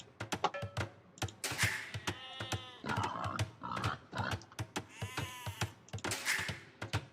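Repeated sheep bleats from a real-time strategy game, mixed with other livestock calls such as cows and pigs, sounding close and loud against a busy backdrop of sharp clicks and keyboard typing.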